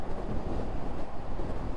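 Steady, loud wind roars across the microphone while riding a Honda CL500 motorcycle on an open road, a dense rumbling buffet that never lets up.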